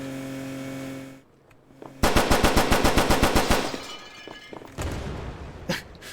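A bomb-carrying buggy blows up in the video game Perfect Heist 2, setting off a loud, rapid burst of crackling gunfire-like blasts that trail into scattered debris pops and a few final sharp bangs.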